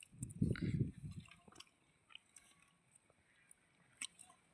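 Close, wet chewing and soft squishing while eating a dinner of rice with sambar, a dense burst of mouth sounds at first, then sparse smacks and faint clicks at low volume.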